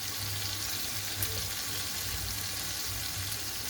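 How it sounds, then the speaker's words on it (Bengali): Tomato and ginger paste for a fish curry fries in a pan with a steady, soft sizzle and faint stirring, low and continuous with no voices. "আমি এই টমেটো আর আদা বাটাটা ভালো করে কষিয়ে নেব"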